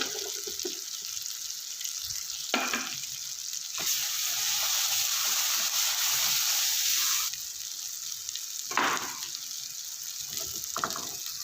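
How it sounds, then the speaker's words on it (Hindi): Fenugreek and spices fry in a pan for a village-style fish curry, making a continuous bright sizzle with occasional clattering stirs, close by and with no talking. "मेथी को भून लेंगे, मसाले को तमाम को अच्छे से इसको फ्राई कर लेंगे।"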